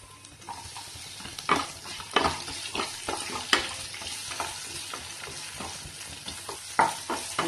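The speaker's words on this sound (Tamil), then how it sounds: "எல்லாத்தையும் சேர்த்து நல்லா வதக்கி விடணும்" Onion and crushed ginger for prawn gravy sauté in a hot pan under a constant sizzle. A spatula stirs and scrapes in a rhythmic series of sharp strokes, with no talk.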